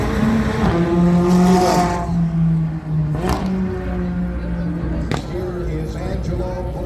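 A McLaren 750S laps a race track with a loud engine note that climbs and shifts through the gears, and a couple of sharp transient bursts mark the run.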